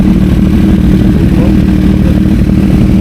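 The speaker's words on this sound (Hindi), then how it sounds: "एक बार अपनी बाइक भी ऑन कर देते हैं" Kawasaki Z900 motorcycle engine running loud and close, a continuous dense rumbling exhaust roar with throbbing revs and no gaps, filling the whole stretch.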